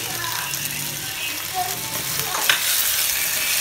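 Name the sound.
stirring tuber, tomato and turmeric in pan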